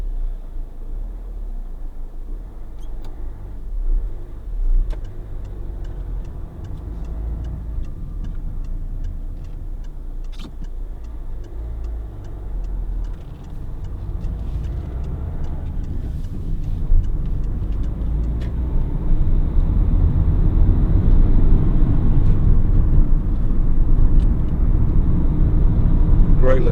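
Steady low 1.4 HDi diesel engine rumble from inside a moving Peugeot 207 panel van on a rough road, with light rattles and ticks, growing a bit louder toward the end.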